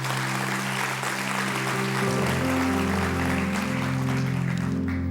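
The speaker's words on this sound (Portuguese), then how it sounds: "Dê o melhor aplauso que você pode dar ao Senhor." Congregation applauding together in a church service, a steady dense wash of clapping throughout with sustained organ or keyboard tones underneath.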